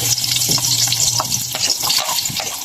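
Chopped onion frying in hot cooking oil in a pan, a steady close sizzle with faint stirring and scraping over it, no voices.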